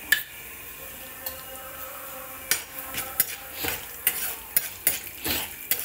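Urad dal frying and being stirred in a pan for ginger chutney, with a steady close sizzle and sharp scraping strokes of a utensil that repeat irregularly, growing busier and louder in the second half.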